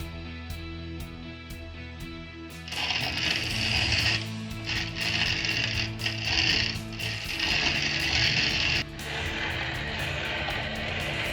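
A restored grain grinder runs with a rattling mechanical grind and rhythmic clanking, growing louder and harsher after a quieter start, close by and without speech.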